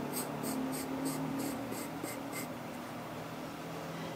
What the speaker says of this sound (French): Ici, nous allons dessiner une courbe